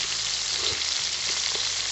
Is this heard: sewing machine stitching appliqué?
no